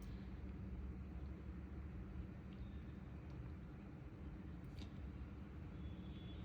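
Steady traffic rumble from outside fills the background as a continuous low roar from passing cars, with no talking heard.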